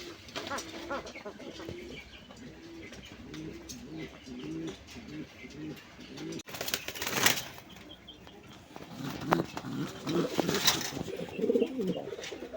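Koka pigeons cooing in a pigeon market: repeated low, throaty coos in a loose rhythm close by, with brief wing flaps and chirps, and voices talking in the background.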